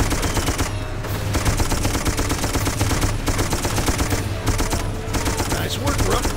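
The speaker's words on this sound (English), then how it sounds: "Get your ass on that gun and provide cover fire." Sustained machine-gun cover fire in the WWI shooter Darkest of Days at the 1914 Battle of Tannenberg: dense, rapid bursts of close, loud automatic fire rattling on without pause for the whole stretch.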